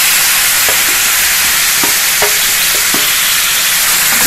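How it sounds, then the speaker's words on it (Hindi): Mashed roasted eggplant hits a pan of hot spice masala for baingan bharta, bringing a loud, steady sizzle with a few faint scraping stirs under it. "देखिए अब इसी मसाले में हम इसको डाल देंगे।"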